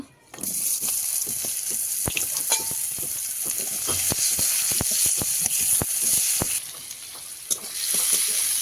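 Chopped onion hits hot oil in a kadai and sizzles loudly and steadily up close, with intermittent sharp spatters and pops throughout and the crackle briefly dipping partway before surging again.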